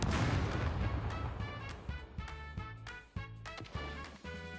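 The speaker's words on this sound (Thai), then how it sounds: "ยิงหนักเลยว่ะตรงนั้น" Heavy gunfire in the survival game SCUM comes as a dense barrage of repeated shots and booms with sharp cracks, loud and continuous, with no voices.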